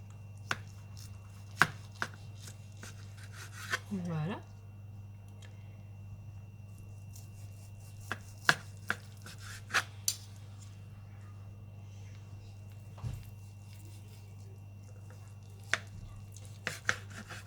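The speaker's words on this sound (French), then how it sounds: "Ça me laisse le temps de couper le rôti à mon aise" A knife cuts through a roast on a cutting board in a home kitchen, giving sparse, separate chopping taps spread out over a steady low background hum, with a brief squishy sound midway and no talking.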